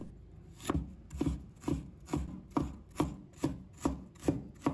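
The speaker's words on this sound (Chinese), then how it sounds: "接下来我们准备1块生姜，把它切成丝" A knife shreds fresh ginger on a cutting board in nine evenly spaced, close, crisp chops that land about every half second, with nothing else heard.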